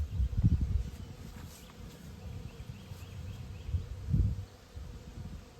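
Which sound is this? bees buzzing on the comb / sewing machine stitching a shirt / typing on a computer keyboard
bees buzzing on the comb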